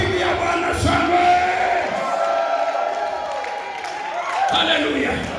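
A church congregation shouts and cheers praise to the Lord during a Swahili-language worship service, a loud, sustained swell of many voices with whoops rising and falling across the clip.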